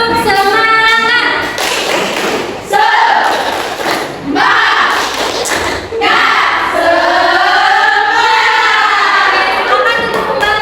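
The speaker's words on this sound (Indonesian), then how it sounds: "Tepuk semangat." A class performs a rhythmic spirit clap, bursts of patterned clapping and thumps mixed with children's voices chanting and shouting, loud and close in a classroom.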